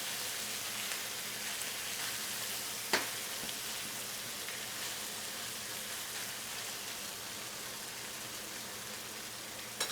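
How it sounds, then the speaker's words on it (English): Rice seared in a steel wok for Peruvian fried rice, left undisturbed, giving a steady, even hiss and crackle with a couple of faint taps, no talk. "Let it get a nice sear on it."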